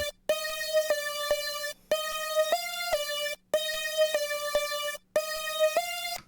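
Synth lead patch from an Acid 2 kit plays a simple repeating melodic pattern of sustained bright tones with a faint low hum under it, cutting briefly into silence between phrases; no voices.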